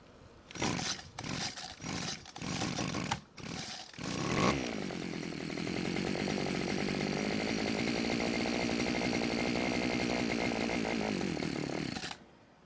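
A Homelite string trimmer's small two-stroke engine is pulled several times, sputters, then catches and runs at a steady buzzing idle for several seconds before cutting off.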